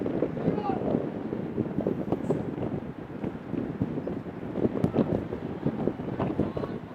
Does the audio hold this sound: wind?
yes